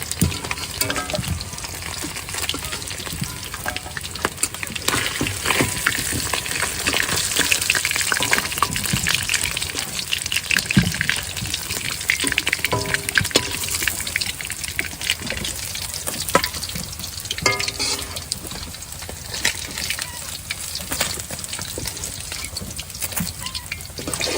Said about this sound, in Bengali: মাছ ভাজা হয়ে গেছে, এবার নামায় নেব